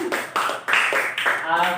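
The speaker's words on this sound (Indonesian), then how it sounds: "beri tepuk tangan kepada Celia." A primary school class claps briefly for a pupil, with a few uneven bursts of hand claps mixed under a voice speaking over them.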